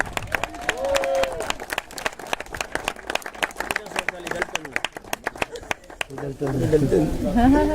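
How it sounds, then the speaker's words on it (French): Crowd applause and clapping at a minime cycling race podium ceremony, steady and lively throughout, mixed with an announcer's voice over a loudspeaker. "Il nous rejoint sous vos applaudissements"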